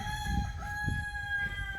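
A rooster's crow rises over a low, steady electronic tone, ringing through the whole moment.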